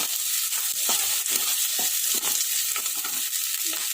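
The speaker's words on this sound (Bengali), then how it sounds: "এবারে দেবো কিছুটা পরিমাণ ধনিয়া পাতা। একটু নাড়াচাড়া করবো।" Chicken bharta with coriander leaves is stirred in a hot pan. A loud, continuous sizzle fills the space, broken by short scraping strokes of a spoon, all close and without voices.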